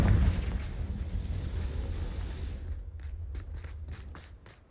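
A Confringo spell explodes in Hogwarts Legacy, opening with a heavy booming blast that rumbles and fades out over several seconds. Light footstep-like shuffles follow near the end.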